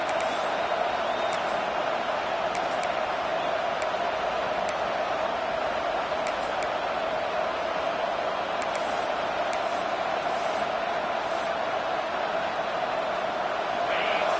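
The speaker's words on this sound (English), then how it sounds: "this home crowd is fired up and ready to make a difference today" Home crowd roaring at a UCLA vs Arkansas football game, a dense, steady wash of stadium noise with occasional whistles and shouts poking through, under a broadcast commentator talking.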